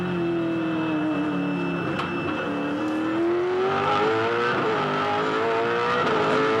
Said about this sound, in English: Garth just takes a foot out of the throttle to make sure that it doesn't get too out of shape down there